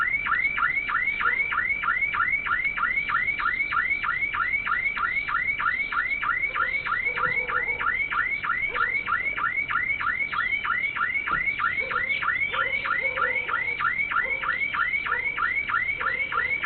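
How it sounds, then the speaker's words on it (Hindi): Car alarm set off during an attempted car theft when a lock is forced with a key, sounding a steady, rapidly repeating electronic warble that runs loud and unbroken throughout, with faint background noise beneath. "ये मुल्जिम इस चाबी के जरिए ये लॉक तोड़ने की कोशिश कर रहा होता है कि अलार्म बज उठता है"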